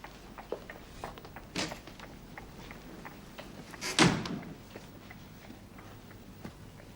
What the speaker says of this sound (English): shut the door when you go out